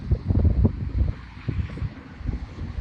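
Gusty wind buffeting the microphone, a low rumbling roar that swells and fades in uneven bursts with no other sounds.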